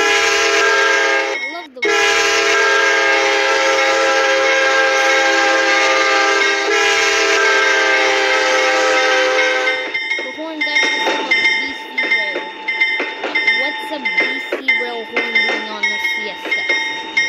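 A Santa Fe train sounds a long, loud horn blast, then its cars rumble and clatter past with rhythmic clanking and squealing wheels.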